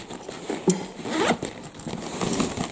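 A zipper runs closed along a knitting needle case in a few quick, close scratchy pulls, heard alone without talk.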